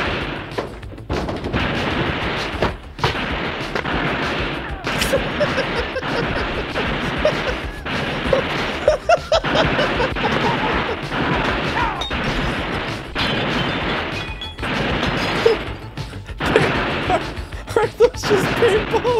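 Paintball guns firing in a chaotic movie scene, with rapid, dense popping shots and impacts over continuous noise, along with shouting voices throughout.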